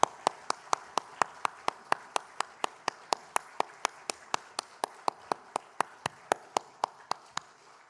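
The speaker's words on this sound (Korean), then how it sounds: "하나님께 영광의 박수 올려드리겠습니다." Slow, steady rhythmic clapping during a church worship service, about twenty-five evenly spaced crisp claps over eight seconds, fairly close and moderately loud with no talk over it.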